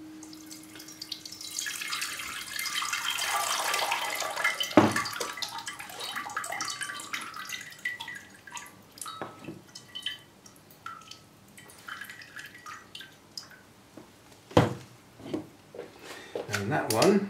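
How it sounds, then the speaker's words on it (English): RO water poured through a plant pot, splashing and trickling steadily before tapering into scattered drips, with a couple of sharp knocks and a faint voice in the background. "I've used roughly the same amount poured through each pot"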